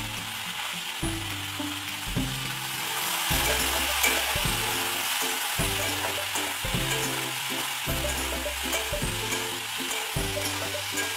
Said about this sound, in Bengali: তো আমাদের বরবটিগুলো হালকা হালকা ফ্রাই হয়ে গেছে